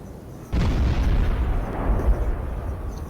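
Artillery shells landing in Napoleon Total War, in a Great War mod scenario: one heavy boom bursts in sharply and gives way to a long rumbling roar and crackle that slowly fades, loud and without voices.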